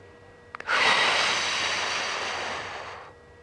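A single long, loud exhale rushes out close to the listener during a posture exercise for the ankles, feet and lower legs, preceded by two quick clicks, then fades to quiet.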